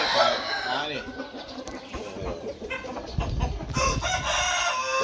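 Chickens clucking with a rooster crowing at a farm, close and lively throughout, with voices talking in the background.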